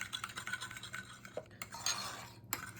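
A utensil stirring milk into pudding mix in a bowl for a chocolate pear pudding pie, with continuous scraping and clinking strokes, close and fairly quiet.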